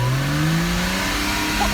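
Porsche Cayman engine running with its engine cover removed, a loud, close, rising mechanical whine and growl as it revs, heard alone.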